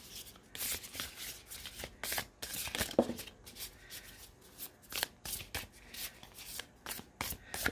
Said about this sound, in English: Very easy to shuffle.